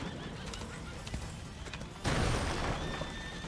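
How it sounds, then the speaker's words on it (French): Horse neighing in the video game A Plague Tale, a sudden loud whinny cutting in over a busy backdrop of rumbling, clattering game noise, held strongly for over a second before easing off. "Regardez, le cheval."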